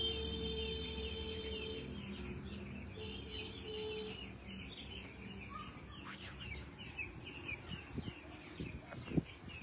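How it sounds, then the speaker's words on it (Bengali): Chickens on a poultry farm cluck and call from a moderate distance, with scattered chirps from other birds, a few sharp nearby knocks toward the end, and no talking. "চলো মুরগির ফার্মে আছো?"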